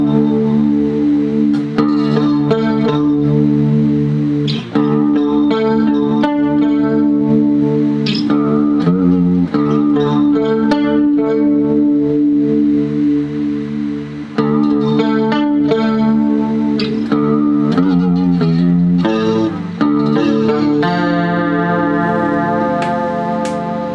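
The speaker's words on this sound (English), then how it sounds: "we can get the dark chorus from this pedal" Arion SCH-Z stereo chorus guitar pedal on its dark chorus setting, shimmering and warbling over a guitar that plays sustained chords and picked notes at a steady moderate pace, loud and continuous with echo and no voices.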